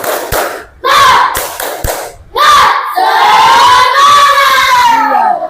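A classroom audience performs a rhythmic spirit clap chant, sharp unison hand claps in a quick pattern punctuated by loud collective shouts, ending in a long drawn-out group cry.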